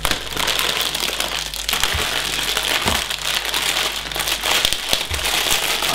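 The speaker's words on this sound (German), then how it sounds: "ich reiße gerne Tüten auf, gerade wenn es neue Sachen sind" Plastic bags holding new parts are torn open and crinkled up close in a continuous rustling, crackling stream with a few sharper rips, and no one talks.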